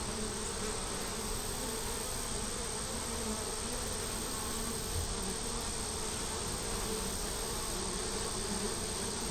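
Honey bees in an open hive during an inspection, a dense, steady buzzing of many insects close by that holds constant throughout, with no talk.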